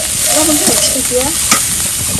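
Leafy greens fry in a hot pan with a loud, continuous sizzle and a few soft stirring scrapes, close-up, with no talking.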